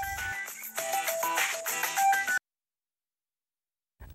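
A mobile phone ringtone plays a bright, repeating melodic tune for about two seconds and then cuts off abruptly into silence.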